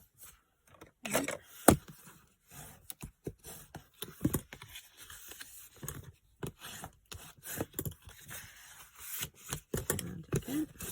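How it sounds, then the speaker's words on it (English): Card pieces for a box holding six Easter cards and envelopes being scored with a tool: a string of short, close scraping strokes and taps in an irregular rhythm, with a few sharper clicks. "So now we're going to score them all."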